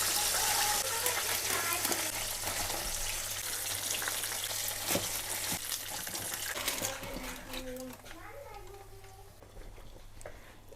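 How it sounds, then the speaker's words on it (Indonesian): Steady loud sizzling and crackling of flour-coated chicken frying in hot oil, continuous throughout, with occasional clinks and a faint voice near the end. "Lalu kita goreng."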